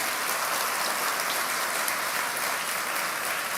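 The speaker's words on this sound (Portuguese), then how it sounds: "A igreja pode dar uma salva de palmas aos professores." A church congregation applauds steadily for teachers, a dense, even wash of clapping that holds from start to finish without a break.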